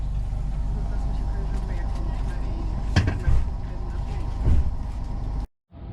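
Interior of a passenger train halted after a derailment ahead on a Polish route, with a steady low rumble and hum, a couple of clunks and knocks, then an abrupt cut near the end.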